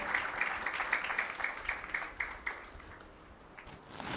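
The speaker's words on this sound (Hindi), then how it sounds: "अंकित के लिए तालियां बजाओ।" Clapping from a satsang gathering at Shree Sharda Sharnam, soft and somewhat distant, a loose patter of hands that thins out and fades over a few seconds.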